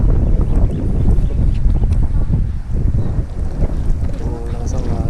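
Strong wind roars across a lake in Antipolo, loud and continuous against the microphone, with a voice briefly heard in the mix.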